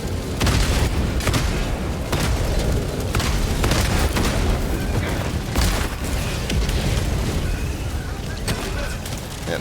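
Chaotic combat in the video game Helldivers 2 against Automatons, with repeated heavy booms and blasts, including a stun grenade, erupting over continuous loud battle noise and rumbling.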